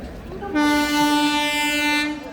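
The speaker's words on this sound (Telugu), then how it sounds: "ఇప్పుడే చెప్పినా ట్రైన్ వస్తుందని చెప్పేసి" A train sounds a long, loud horn blast as it arrives at Charlapalli railway station, the sustained tone starting abruptly and holding steady for over a second and a half before cutting off.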